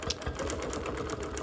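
A sewing machine runs steadily during free-motion quilting on a Nearly Insane sampler quilt, its fast motor hum and needle chatter continuous and close.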